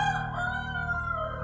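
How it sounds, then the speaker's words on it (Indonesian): A rooster crows loudly and close, one long drawn-out cock-a-doodle-doo that fills the whole moment, with no talk over it. "Dan ayamnya sangat menyebalkan."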